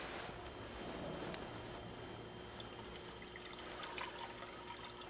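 Coolant mix poured into the cooling system of a 1999 Chevy S-10 4x4 with a 4.3L engine, a faint, steady liquid pour and trickle running continuously with no voices.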